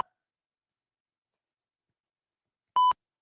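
A single loud, pure-toned censor beep sounds alone after near silence, lasting about a fraction of a second, with a faint blip at the very start.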